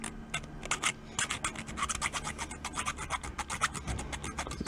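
Metal file widening a slot in the throw-off handle of a Slingerland Super Radio King snare drum: quick, rapid back-and-forth rasping strokes, close and steady, with no talking.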